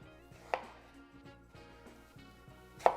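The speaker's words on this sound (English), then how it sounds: "now we are going to cut our Roma tomato. Just chop that." A knife chopping a Roma tomato on a cutting board, a handful of soft rhythmic cuts with two sharper knocks, close and alone.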